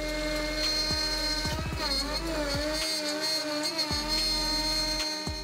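A Shapeoko Pro CNC router cuts plywood at 5/16-inch depth, giving a steady, loud spindle whine with machine hum and rhythmic low thumps from the cutter pass, without speech.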